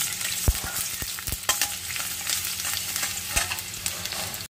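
Chopped onions sizzle in oil in a village home kitchen while frying to light brown, a steady crackling hiss broken by several sharp clicks of a spatula stirring against the pan.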